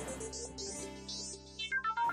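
A phone ringing with an incoming call, a short melodic ringtone with stepped tones that ends in bright repeated beeps, heard alone and fairly clear.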